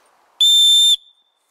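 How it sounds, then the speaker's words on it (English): A high-pitched survival whistle built into the handle of a compact budget hatchet gives one loud, steady, piercing blast of about half a second, followed by a faint trailing tone. "It'd be a nice signal whistle, actually."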